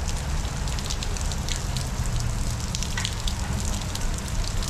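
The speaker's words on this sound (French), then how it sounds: "Première vraie pluie." Steady rain patters on a surface at Walt Disney World's Hollywood Studios, a dense continuous hiss with scattered drops standing out, no voices.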